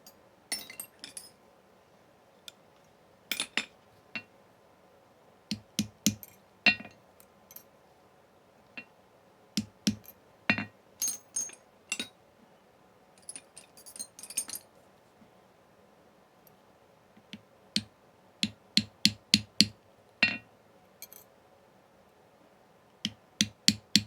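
Light metal taps on tube rivets, striking each side, come as sharp, bright clinks. They are scattered irregularly, sometimes in quick clusters, with quiet gaps between them and no talking.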